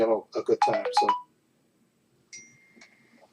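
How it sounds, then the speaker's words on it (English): A mobile phone rings faintly just after a person finishes talking, giving a brief electronic tone or two over a quiet background. "oh, that's my phone."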